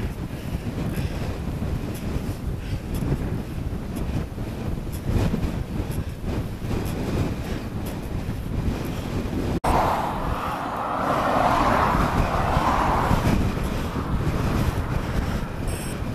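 Strong headwind buffeting a cyclist climbing Shap, a continuous rough rush across the microphone that swells heavier toward the end, with one sharp knock midway and no voices.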